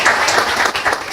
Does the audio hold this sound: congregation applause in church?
yes